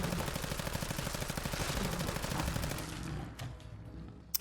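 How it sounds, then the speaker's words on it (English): Rapid full-auto rifle fire from a weapon mod in Fallout 4, a fast, even stream of loud shots for nearly three seconds that cuts off, followed by a few quieter mechanical clicks and a sharp final clack. "Let's see how full auto does."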